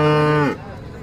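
A dairy cow at the Sangola cattle market gives one loud, close moo that ends abruptly, followed by quieter market background.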